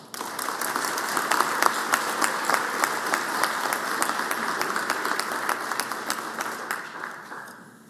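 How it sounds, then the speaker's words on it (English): Sustained applause fills the Mississippi state Senate chamber, many hands clapping in a steady dense patter that tapers off toward the end. "So let's give her another round of applause."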